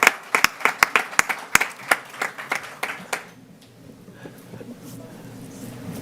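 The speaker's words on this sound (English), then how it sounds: "And if we can give her a round of applause." A small audience at a school board meeting gives a brief round of applause: about a dozen distinct, fairly close claps in quick succession. They fade out after three seconds into quiet room murmur.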